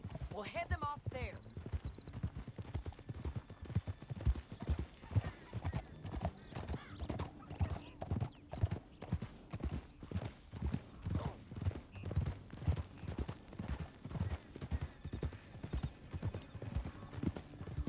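Horse hooves clip-clopping at a steady trot in the Red Dead Redemption 2 video game, a continuous even rhythm of soft thuds throughout, with a brief neigh near the start and dialogue voices heard faintly over the hoofbeats.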